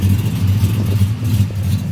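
A Silverado 5.3L V8 with a TSP 224R cam revs steadily, its deep choppy exhaust rumble loud and close, holding a throaty tone throughout without any talk.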